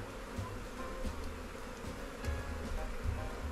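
Honeybee swarm buzzing inside a hive, a dense continuous low hum with a steady drone and occasional closer passes, moderately quiet with no speech.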